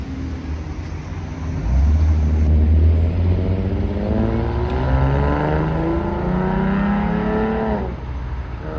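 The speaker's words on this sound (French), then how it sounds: "il sonne bien le V6 mine de rien hein, quand même" A Ford Mustang V6 revving and accelerating nearby, its engine note climbing in rising sweeps over several seconds before easing off, loud and close with no talk.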